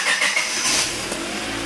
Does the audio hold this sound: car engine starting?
yes